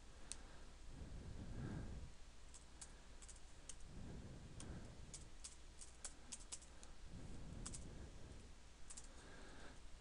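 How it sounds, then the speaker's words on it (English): A password being typed on a computer keyboard, scattered light key clicks in small bursts, quiet and close, over a low steady hum with soft breathy swells. "So I'll type in a password here for Joomla."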